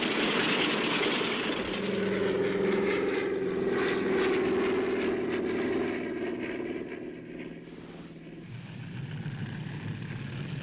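A small propeller airplane revs loudly and roars through its takeoff run, the steady engine drone holding strong before easing off and fading toward the end.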